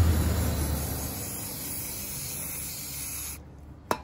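Lubricant spray hisses steadily from an aerosol can onto a motorcycle drive chain, close and continuous, stopping abruptly with a short click at the end.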